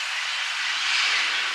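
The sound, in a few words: train at Port Huron depot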